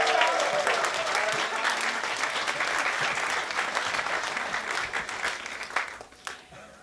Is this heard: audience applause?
yes